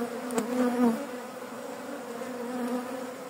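Honeybees from an opened hive colony buzz steadily around the frames, a close, continuous drone with a brief rise near the start before settling to a constant hum.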